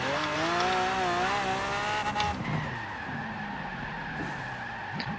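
Tires squeal and skid as the rear brakes lock on a 1969 Pontiac GTO Judge in Forza Horizon 4, a loud sustained screech over a droning muscle-car engine that shifts pitch midway, with no talk.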